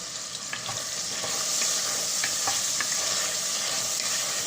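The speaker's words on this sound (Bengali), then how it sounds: "চিকেনটা আমার মোটামুটি একটা ভাজা হয়ে গেছে" Chicken pieces fry in a pan for a Thai chicken noodle soup, a steady close sizzle broken by repeated sharp clinks and scrapes of a utensil stirring against the pan, with no talking.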